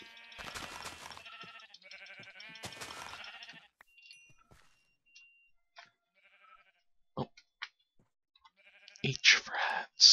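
Sheep in Minecraft bleat in two bursts near the start, followed by sparse clicks and short sounds, then louder game noises toward the end; no talking is heard.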